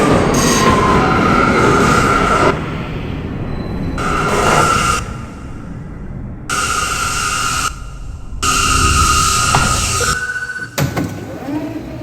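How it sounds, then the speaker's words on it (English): An R179 F subway train on the local line via Court Square runs through the tunnel, a loud metallic roar broken by several long high wheel squeals as it rounds curves, with faint voices underneath. "This is a Queens-bound F local train via Court Square."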